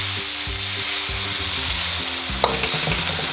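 Cow snout simmers in spiced water in a pot for Surabaya-style rujak cingur, producing a steady, close bubbling and sizzling wash beneath faint tonal background sounds, with one small knock.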